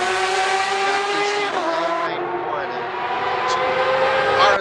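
A Porsche 911 RSR GTE (991) race car at Magny-Cours screams past with a high, harmonic-rich exhaust note that drops in pitch as it goes by, then rises again, loud and close under commentary.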